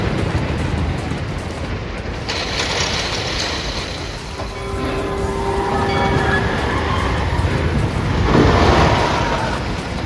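A Mystic Timbers roller coaster train runs at Kings Island, rolling and rattling over track with a steady rumble, while a shrill wheel squeal rises briefly partway through.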